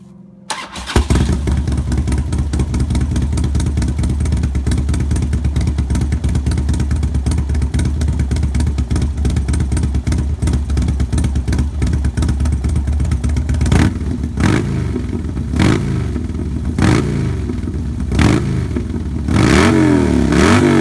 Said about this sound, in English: This is the Highwayman 2-in-1 304 stainless steel, and we'll go ahead and do a sound test for you first.